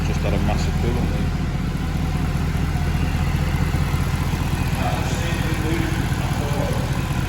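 A Mercedes C63 with a massive coolant leak runs nearby, its engine a loud, steady low rumble with a throbbing idle that continues throughout, while people talk over it.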